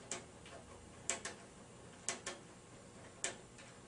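Crisp ratchet clicks in short pairs and singles as a dental implant is seated into a soft model, quiet and close with nothing else heard.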